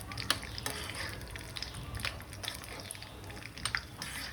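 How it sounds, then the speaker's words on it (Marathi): Dry fruits frying in a pan while cooking wheat lapshi, giving a steady soft sizzle with light scraping and stirring clicks throughout, no voices. "आपल्याला फ्राय करून घ्यायचे आहे."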